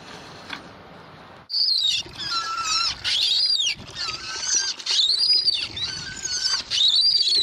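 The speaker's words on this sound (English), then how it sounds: "I just want you to see what it sounds like. It's a little screechy." After a short lull, a high, squealing screech from a water pump's worn seal repeats in rising and falling bursts, loud and close, with quieter moments between squeals.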